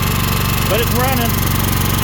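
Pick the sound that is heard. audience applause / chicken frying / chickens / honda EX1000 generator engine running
honda EX1000 generator engine running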